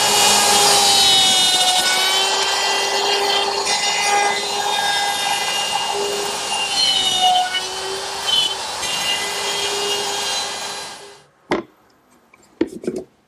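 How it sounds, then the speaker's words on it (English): A router runs steadily, cutting half-blind dovetails in a poplar drawer side held in a dovetail jig. The loud, continuous whine shifts slightly as the bit moves through the wood, then cuts off near the end, followed by a few brief knocks. "I've set up the side in my dovetailing jig for half-blind dovetails."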